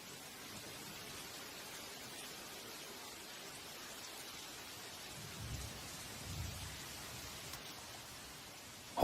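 Rain falls in a tropical forest as a soft, even patter, and faint thunder rolls twice in the distance before a sudden louder burst at the end.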